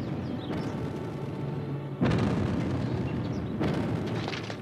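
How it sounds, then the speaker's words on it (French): Cannon fire in the animated series Molierissimo, set in Molière's era: three heavy booming blasts spaced a second or two apart, each rolling into a long rumbling tail over a dense, noisy battlefield background. "Ah, faites donner le canon."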